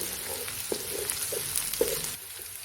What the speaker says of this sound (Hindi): अब हम इसमें लहसुन और अदरक का पेस्ट ऐड करेंगे, अच्छी तरह से मिक्स करेंगे, 2 मिनट के लिए कुक करेंगे।